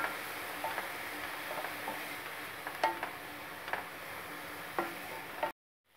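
Onion and apple gourd pulp frying in a pan give off a steady, quiet sizzle with occasional clicking stirs from a spoon, then the sound cuts off.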